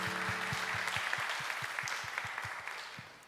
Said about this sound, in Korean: 우리 그렇게 하실 하나님께 감사의 박수 올려드립시다